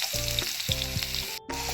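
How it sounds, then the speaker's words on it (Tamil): Onion and garlic frying with popped mustard seeds in a pan for a bitter gourd stir fry, giving a steady close sizzle under tonal background music, with a brief dropout near the end. "கடுகு வெடிச்சப்புறம் வெங்காயமும் பூண்டு போட்டுக்கணும்."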